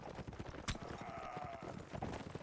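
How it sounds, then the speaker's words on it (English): A horse gallops in a competitive video game match, a faint rhythmic clip-clop of hooves under a low wash of game sounds. "Oh, it's Scar's horse."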